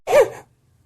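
A single close, loud sneeze bursts out sharply and fades within half a second, picked up right at the microphone, followed by near silence.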